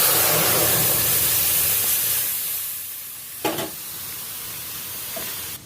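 Boiled moong dal sizzles loudly in a hot pan as it is stirred, a steady close hiss with a brief clatter partway through, and no one talking.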